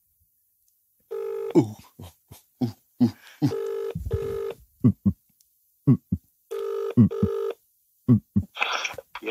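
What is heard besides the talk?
phone call dialing and ringing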